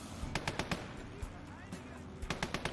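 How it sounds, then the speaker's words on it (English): A DP machine gun in the WWII game Gates of Hell fires short, rapid bursts of sharp cracks, with one cluster at the start and another near the end and a lull of quieter battle noise between them. "The DP gunner is shooting"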